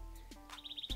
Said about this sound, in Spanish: Escuchan el ruido de los pajaritos.